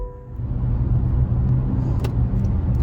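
Toyota bZ4X electric car setting off, a steady low road rumble and cabin hum heard from inside, fairly loud and continuous, with a faint click partway through and no talking.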